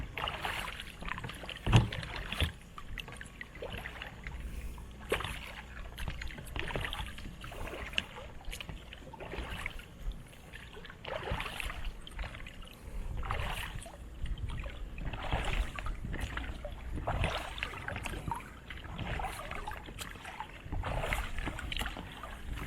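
Kayak paddle strokes around an island in the San Juan Islands, steady rhythmic splashes and dips repeating every second or two, close and clear over light water movement, with no talking.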